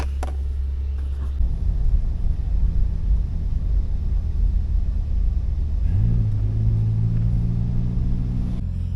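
A car engine rumbles steadily up close as the vehicle drives around to the front of a driveway, with a low tone that shifts and rises near the end as it pulls forward.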